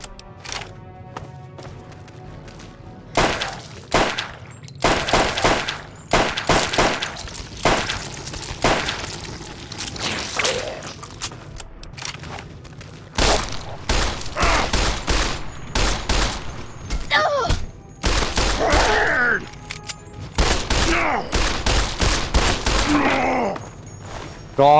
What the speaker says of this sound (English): God, it's like I'm shooting a brick wall.